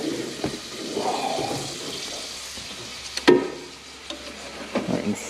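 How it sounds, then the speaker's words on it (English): Water runs and splashes into a cooking pan to loosen it for cleaning, a rushing pour with a few louder splashy bursts and scrapes, moderately close and with no talk. "Add some water to that so the cleaning is even easier there."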